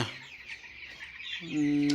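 Young chickens cluck and cheep softly through a steady hiss of background noise, with a brighter, sustained call entering near the end; faint voices may be present.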